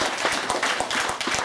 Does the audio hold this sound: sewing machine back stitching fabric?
no